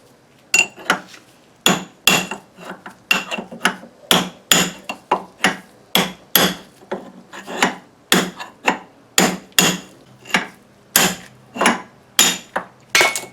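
Steady, sharp hammer blows ring out about twice a second as an old, pitted wheel bearing raceway is knocked out of its hub. The strikes are loud, metallic and close, with no talking.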